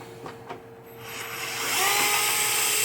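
A power drill backs long wood screws out of a 1976 Gottlieb Ship Ahoy pinball machine: a few light clicks, then a high motor whine that rises and holds, close and loud.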